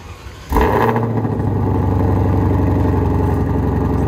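A Shelby GT500 engine with an X-pipe exhaust, in normal mode, cranks and roars to life after a short quiet lead-in, then settles into a loud, rumbling idle with a deep, throaty exhaust burble.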